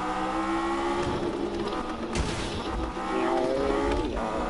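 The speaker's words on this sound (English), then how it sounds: "I hear that car though." Sports car engine in the Need for Speed racing game, a throaty roar with rising and falling revs, loud and continuous with no talking.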